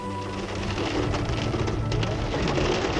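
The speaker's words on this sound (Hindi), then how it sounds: "अभी तो फ़िलहाल बारिश हो रही है" Rain falls steadily in the mountains at Triyuginarayan village near the temple, right after a hailstorm, a constant close patter with a faint bird call and no talking.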